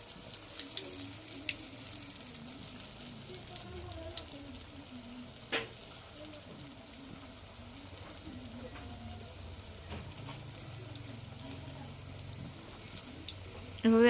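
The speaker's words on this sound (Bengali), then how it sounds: "এখন আস্তে আস্তে উল্টে পাল্টে সুন্দর করে ভেজে নিব" Palm fruit fritters (tal bora) frying in hot oil give a soft, steady sizzle throughout, with a few faint clicks and stirring sounds and a slightly louder burst at the very end.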